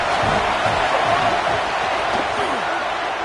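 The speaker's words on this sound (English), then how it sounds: "This crowd bringing the energy and noise early." Football stadium crowd at a college game between Florida State and Auburn, a loud, sustained roar of cheering and noise with an announcer talking over it.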